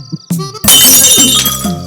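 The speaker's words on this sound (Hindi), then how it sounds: "अरे ये तो दूध का ग्लास टूट गया।" A glass of milk falls and breaks in a Hindi-dubbed movie scene: a few light clinks, then a sudden loud shattering crash with bright ringing shards that scatter and fade.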